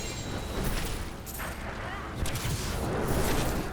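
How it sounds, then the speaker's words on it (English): Explosions in the video game Diablo 3, a dense continuous rumble of blasts and crackling bursts filling the mix at fairly high level, with a voice talking over it. "I'm going to go and stand in an explosion."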